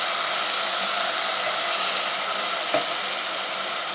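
Potatoes hit a hot pan for a meat dish and sizzle steadily, a loud, even, hissing fry that runs unbroken throughout with one brief stir or clatter partway through.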